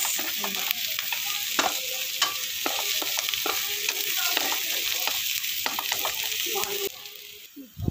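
Onions and aromatics sauté in a hot pan, a steady sizzle with repeated scraping stirs of a utensil throughout, close up and fairly loud, briefly quieting near the end.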